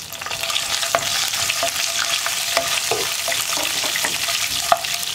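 Ginger and garlic frying in a pan for chicken curry, a steady crackling sizzle with occasional sharp spatters and stirring scrapes, close and fairly loud.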